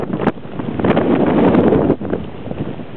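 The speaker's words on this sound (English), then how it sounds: "Gusts are pretty strong, so it's knocked me down." Strong gusts from Tropical Storm Hannah batter an outdoor microphone on the Virginia Beach shore, a loud roaring rumble that swells and dips in bursts, with no voices.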